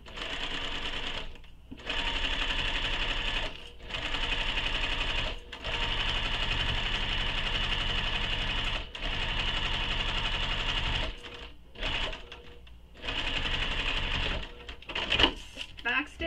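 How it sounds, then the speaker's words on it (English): A sewing machine stitches down the side seam of a sling pack bag in a series of loud, even runs broken by short stops, ending with some handling noise. "So we'll stitch all the way down the side, and we'll stop when we hit this mark that we made."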